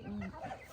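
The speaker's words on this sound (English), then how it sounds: "we've got the ducks and the new chicks" A chicken gives a brief, faint cluck on a homestead where ducks and new chicks are kept, a single short call lasting under a second.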